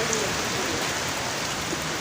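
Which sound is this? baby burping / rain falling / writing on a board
rain falling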